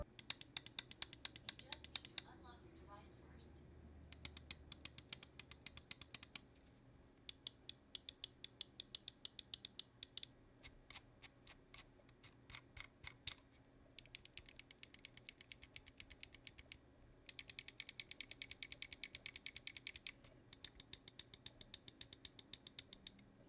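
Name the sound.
Glorious Model O wireless gaming mouse button clicks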